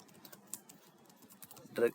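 Soft, quick keystrokes on a computer keyboard while entering Python pandas commands, faint and irregular, ending in one slightly louder tap.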